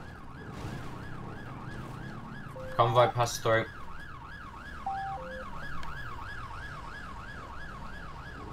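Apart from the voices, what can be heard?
police sirens in video game GTA 5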